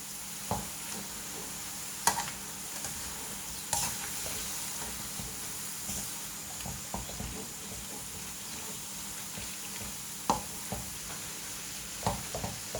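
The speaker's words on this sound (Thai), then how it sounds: "เติมน้ำนิดหน่อย เพื่อให้เส้นเขานุ่มแล้วก็หมูเราสุก" Yakisoba noodles and pork stir-frying with a splash of water, a steady close sizzle with soft scraping stir strokes and a few sharper clacks of a utensil against the pan throughout.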